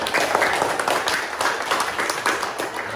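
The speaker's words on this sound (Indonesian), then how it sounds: "Tepuk tangan dulu buat Bintang." A classroom of students claps for a classmate, a brief burst of quick, uneven hand claps from many pupils close by, fairly loud and lasting only a few seconds.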